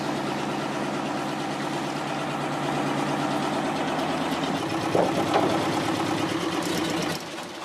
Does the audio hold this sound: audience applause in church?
no